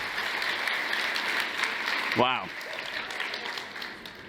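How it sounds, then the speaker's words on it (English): A keynote audience gives a round of applause, a steady spread of clapping from many hands throughout, with one voice briefly exclaiming over it midway before the clapping eases. "Let's give her another round of applause"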